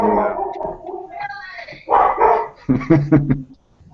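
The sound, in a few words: dog barking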